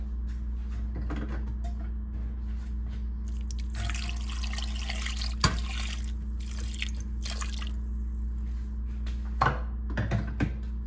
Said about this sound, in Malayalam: ഈ വെള്ളം ഒഴിച്ച് ഇനി ഇത് നന്നായിട്ടൊന്ന് ഇളക്കി മൂടി വെച്ച് വേവിക്കണം